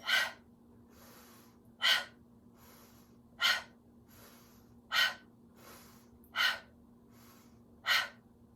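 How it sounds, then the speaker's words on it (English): Forceful yoga breathing with the belly snapping in: six sharp, breathy bursts of air, evenly spaced about one and a half seconds apart and heard close up, with quiet intervals between them. "inhale, expand belly, exhale, snap belly in"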